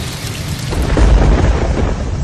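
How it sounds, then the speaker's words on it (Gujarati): Heavy rain pours steadily while a deep rumble of thunder swells and rolls through the middle, loud and close, with no voices. "પેરામ્બલૂર અને આસપાસના વિસ્તારોમાં ગાજવીજ સાથે વરસાદ વરસ્યો હતો"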